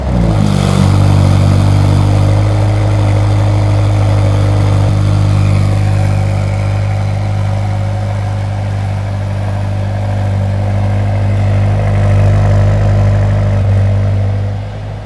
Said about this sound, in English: now let's listen to the cold start of this engine